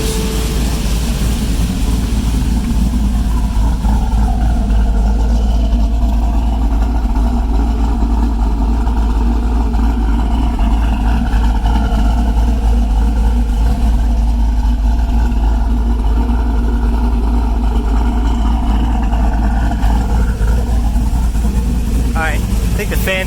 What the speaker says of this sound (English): valve train noise, rocker arms